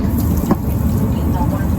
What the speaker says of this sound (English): When I checked out the sink, the water worked, and there was warm water as well that came out of the sink.